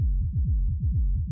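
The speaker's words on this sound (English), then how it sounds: "And there we go, we have our rumble." Low-pass-filtered techno rumble bass pulses in quick, regular throbs, deep and muffled with all brightness removed, steady and alone with no voices.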